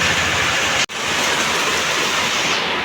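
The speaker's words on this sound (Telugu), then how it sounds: "అదుగో వర్షం" Steady rain pours down in a loud, even hiss that stays constant from start to finish, with one brief dropout near the beginning.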